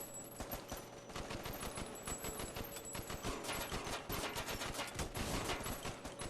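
Rapid gunfire from a VR light gun video game, dense bursts of shots rattling continuously and loudly throughout with no talk over it.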